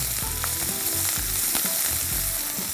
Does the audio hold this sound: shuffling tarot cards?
no